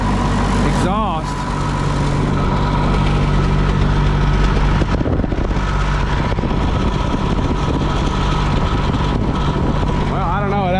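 An engine runs steadily, picked up close to its exhaust, giving a continuous rumbling drone with a few brief louder swells, while a person talks over it.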